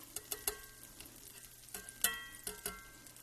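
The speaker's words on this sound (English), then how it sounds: "we're just going to sear our pork chops at first" Thick pork chops searing in a cast-iron skillet with leftover bacon grease, giving a quiet, steady sizzle broken by scattered sharp pops and crackles, with no talking.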